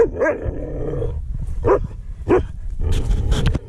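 A dog barks and growls several times in short, uneven bursts close by, ending in a louder flurry of barking.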